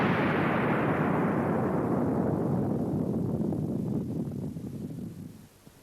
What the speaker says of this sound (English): The aircraft hit trees, broke up, and caught fire.